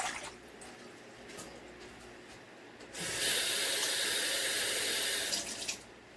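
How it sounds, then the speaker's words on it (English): Water pours into a pan for an old-fashioned pot roast, a steady rushing splash that starts midway, runs loudly for about two seconds and then stops, with quieter kitchen sounds around it. "adding 2 cups of water to the pan with a pack of Mrs. Grass onion soup mix"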